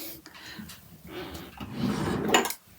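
A drawer in a nail polish storage unit slides open with muffled wooden scraping and a faint clink of bottles inside, rising to a brief louder rattle near the end.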